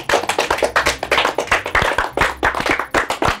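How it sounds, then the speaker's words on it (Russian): An audience claps in quick, loud, uneven bursts for a few seconds, close and continuous with no voices over it. "Похлопаем."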